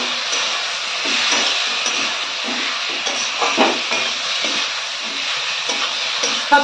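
Spices being stirred and fried with garam masala in a pan, a continuous loud sizzling hiss with faint stirring scrapes throughout, close by.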